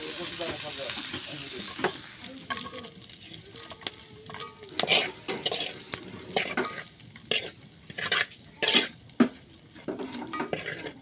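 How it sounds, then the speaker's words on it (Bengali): Pointed gourd peels frying in oil in a village kitchen, with steady soft sizzling under repeated clinks and scrapes of a utensil against the pan while stirring. "পটলের ছোলা ভালো করে ভাজলে তেলে পটলের ছোলা ভাজা শেষ"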